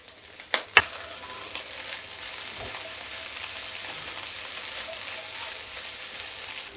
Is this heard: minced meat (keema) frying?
yes